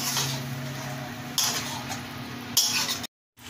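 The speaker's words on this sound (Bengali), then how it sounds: "মাংসটা আমি কিছুক্ষণ কষিয়ে নেব।" Chicken is sautéed in one pot for chicken tehari, with a spoon stirring, scraping and clinking against the pot. The sounds are fairly quiet, with a few sharper knocks.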